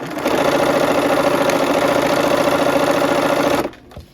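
Sewing machine stitching two sets of quilt fabric pieces together, a close, steady rapid mechanical hum for about three and a half seconds before it stops abruptly.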